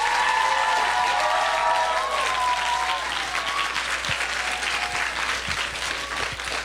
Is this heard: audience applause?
yes